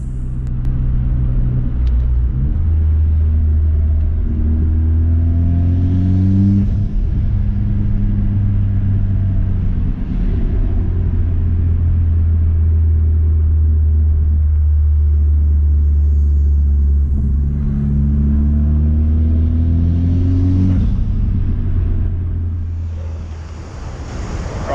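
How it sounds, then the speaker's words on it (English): A Mitsubishi Evo X fitted with an AEM aftermarket intake passes by several times, a deep engine rumble swelling and fading with each flyby under steady wind noise outdoors. "I'll go for a drive find somewhere where I can sort of sit the camera down and do a few flybys so you can hear the noise"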